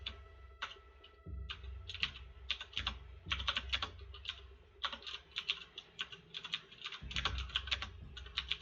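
Fingers type on a computer keyboard close to the microphone, sending out quick irregular bursts of clicky keystrokes with short pauses between them over a faint steady hum.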